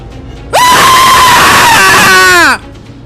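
A woman's loud, sustained scream lasting about two seconds, starting with a sharp rise, holding a high pitch, then falling off at the end, alone over quiet background.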